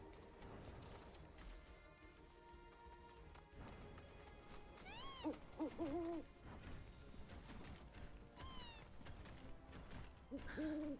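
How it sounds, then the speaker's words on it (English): A bird hoots several times in Final Fantasy 7 Rebirth, with warbling, rising-falling calls near the middle and again near the end, over busy game background noise. No one speaks. "Damn bird."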